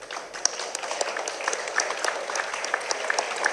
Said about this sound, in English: So everybody stand up and give yourself a round of applause for the work that you did.